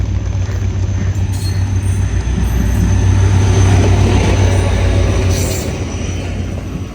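An HGMU-30 diesel locomotive hauls the Awam Express, a loud, steady rumble of the rolling train with low engine drone and rail noise that eases slightly toward the end.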